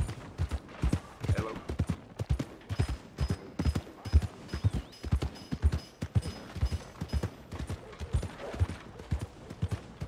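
Horse hooves clip-clop in an uneven rhythm of repeated thuds in Red Dead Redemption 2, close and fairly loud, with faint background sounds between the steps.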